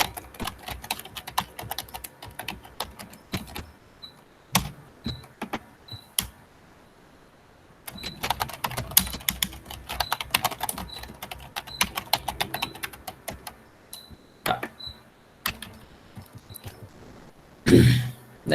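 Short bursts of typing on a computer keyboard, a password being entered, with irregular clusters of key clicks and pauses, fairly close and alone, ending in a louder knock.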